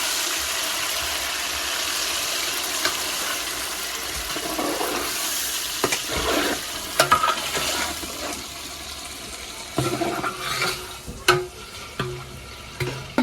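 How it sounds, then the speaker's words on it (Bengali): Chicken meat being stirred with spices in a pan for biryani sizzles loudly and steadily, with scraping and clattering strokes of the spoon breaking through the constant frying hiss. "মাংস দিয়ে খুব ভালোভাবে নাড়িয়ে নেব"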